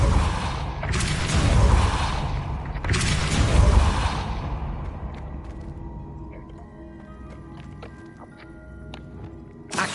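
A Depulso spell cast in a Harry Potter-style video game, heard as two loud whooshing bursts early on that fade into a quieter tail of small clicks and mechanical sounds.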